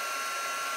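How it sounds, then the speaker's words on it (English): A heat gun blows a steady, even rush of hot air onto a piece of shrink plastic, close and constant for the whole moment with no talking. "I pull the heat gun away a bit."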